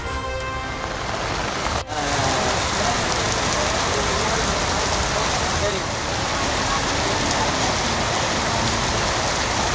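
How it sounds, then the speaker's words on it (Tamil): Steady, dense rain pouring down in the Chennai suburbs, a continuous loud hiss throughout with one brief sharp knock early on. "சென்னை புறநகர் பகுதிகளிலும் விட்டு பெய்த மழை."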